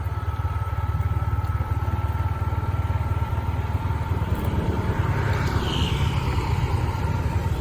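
A scooter ridden along a road in Thailand, its small engine buzzing steadily with a rhythmic low putter under wind noise, heard continuously from the rider's position.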